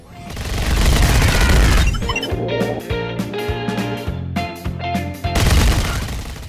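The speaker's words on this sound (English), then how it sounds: "It's just a machine gun." Machine gun fire in the video game Dead End Job, loud rapid bursts over a heavy rumble, then a rhythmic electronic game soundtrack with pulsing beats before the gunfire swells again.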